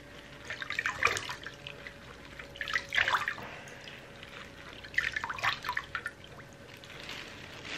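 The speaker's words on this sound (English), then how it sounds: "I'm actually gonna just soak that whole area for a few minutes in water" Water soaks and drips around a goose being cleaned, with faint, irregular splashes and trickles over a low background hiss, quiet and close with no voices.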